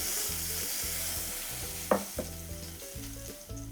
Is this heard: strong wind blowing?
no